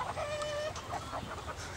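A hen clucks softly in short, scattered calls while a dog sniffs at it close by; the clucks are faint against a steady background hiss.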